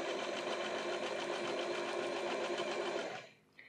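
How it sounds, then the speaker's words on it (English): A sewing machine stitches a seam on jeans in one steady, loud, continuous run that stops abruptly near the end, with no talk over it. "And now I simply run a stitch down."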